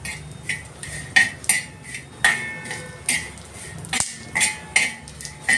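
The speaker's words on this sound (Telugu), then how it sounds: "ఇలా బాగా వేపుకోవాలి." Dried fish being stirred and fried in oil in a pan, a metal spoon scraping and clinking against the pan in a steady irregular rhythm, about a dozen sharp taps over a soft sizzle, no talking.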